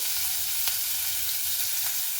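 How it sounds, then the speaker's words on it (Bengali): Chopped onions go into the hot oil left from lightly frying pointed gourd, giving a loud, steady, close sizzle with a couple of faint clicks. "পেঁয়াজ কেটে রেখেছিলাম সেটা আমি দিয়ে দিচ্ছি সেই তেলের ওপরেই"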